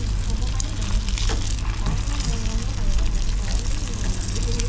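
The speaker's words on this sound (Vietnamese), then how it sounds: "cái đây là kỹ thuật chiên nha mọi người" Food frying in a pan for a simple vegetarian dish, a steady close sizzle and crackle running throughout under a low background hum.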